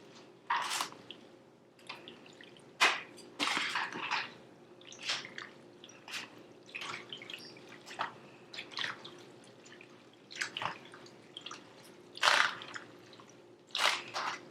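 Hot macaroni being stirred with cheese and butter, giving repeated wet, sticky squishing and scraping sounds in an irregular rhythm, close up with no voices.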